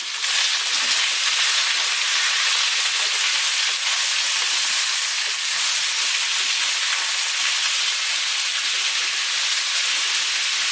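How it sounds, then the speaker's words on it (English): Steady, loud sizzling hiss of vegetables stir-frying in oil in a hot pan, continuous throughout with no voices. "Get that stirring and frying."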